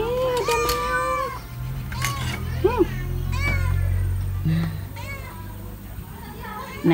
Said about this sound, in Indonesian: Ada meong.